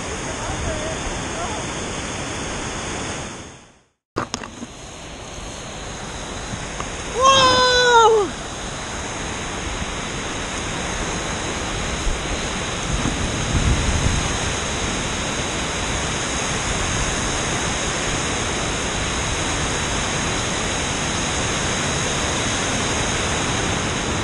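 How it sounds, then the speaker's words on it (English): Roaring waterfall of 100 to 200 feet on the Magpie River, a loud, steady broadband rush that runs through nearly the whole stretch, broken briefly by a dropout and a short voice early on. "did we just fucking find a 100, 200 foot waterfall?"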